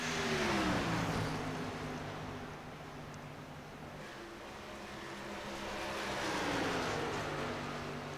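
Race cars roaring down the back straightaway at a Kentucky track, a steady engine drone that swells, dips, and rises again as the cars pass, heard from a distance.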